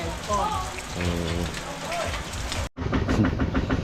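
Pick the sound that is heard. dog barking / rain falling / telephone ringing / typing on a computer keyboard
rain falling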